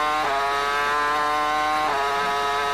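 A 2002 MotoGP racing motorcycle at the British Grand Prix screams through corners, its high-pitched engine note loud and close, rising steadily, dipping briefly at two gear changes, then climbing again.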